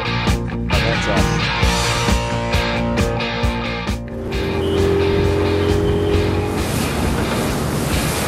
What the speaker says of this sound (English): Have a look at the traffic.